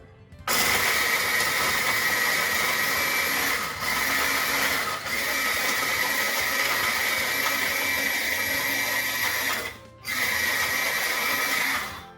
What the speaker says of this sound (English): Making sure all the nuts are all nice and ground up